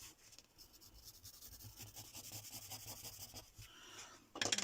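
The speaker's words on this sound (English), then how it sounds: "I'm just going to go back in again with my pencil." Pencil shading on paper while adding soft tone to a stamped, hand-drawn girl's hair: a steady, close scratchy rubbing of graphite strokes in quick repeated passes, ending in a louder brief burst.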